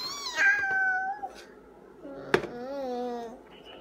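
A voice imitates a cat, with drawn-out, wavering meow-like calls in two stretches, separated by a short sharp knock.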